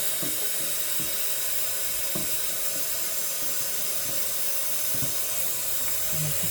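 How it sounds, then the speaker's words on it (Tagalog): Tap water runs steadily into a cooking pot while filling it for rice, a constant hissing rush of moderate loudness with a few faint clinks and knocks underneath and no talking. "Nagsasaing ako, nagluluto. Ito yung nilalagay ko ng tubig."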